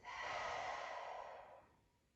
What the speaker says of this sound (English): inhale through the nostrils, deep exhale through the mouth